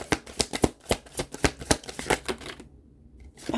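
Tarot cards riffled and drawn by hand, a quick run of close, crisp flutters and snaps with a short pause before the shuffling resumes; no talk.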